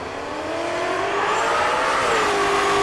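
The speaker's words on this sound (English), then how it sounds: "The 6th gen Camaro in the right lane. The S197 Mustang in the left lane." A 6th-generation Camaro and an S197 Mustang drag racing side by side at a Race Week event in Ennis, Texas, engines roaring loud and steady with rising pitch as they accelerate down the strip, no talk.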